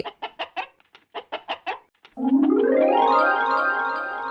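A hen clucks in a quick series of about ten evenly spaced calls, loud and close, followed by a long, sustained squawk that trails off.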